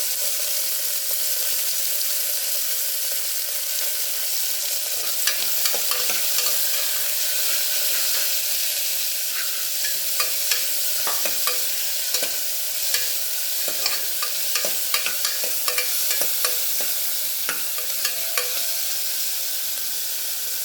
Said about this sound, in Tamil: இது நல்லா செவக்க வறுக்கணும்